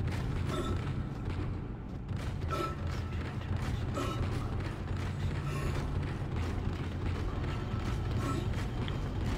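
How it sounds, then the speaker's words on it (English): A heavy door creaks open in the sci-fi horror game Dead Space, a drawn-out grinding mechanical groan over a dense, droning low ambience that fills the whole stretch without pause. "Oh, I heard a door."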